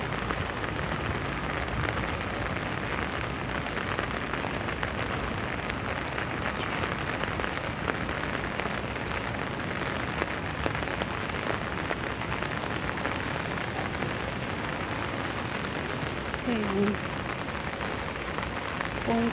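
Heavy rain pours down steadily under trees along a road during a Sunday walk to church. The hiss and patter stay dense and unbroken throughout, with no clear speech.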